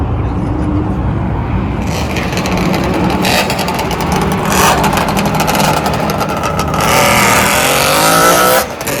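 A rear-mounted V6 car engine roars loudly and close up at the Daikoku parking area, droning steadily and then rising in a strong rev near the end.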